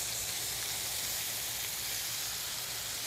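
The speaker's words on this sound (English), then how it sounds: "put the other set of eggs on" Eggs sizzle steadily on a Blackstone flat-top griddle, a constant close hiss of frying with no pauses.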